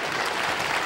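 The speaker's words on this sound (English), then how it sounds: "First time I ever saw a loaf of bread get applause." Studio audience on a 1970 television game show applauds a loaf of bread, a steady dense wash of clapping throughout without a break.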